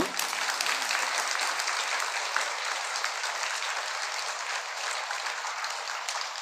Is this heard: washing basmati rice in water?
no